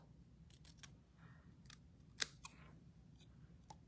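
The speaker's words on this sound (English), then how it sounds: "Cut in how big you want your flag to be in the middle, and then cut to" Scissors make a few quiet, separate snips while cutting paper into a flag shape for a papercraft project, with faint handling noise between the cuts and no speech.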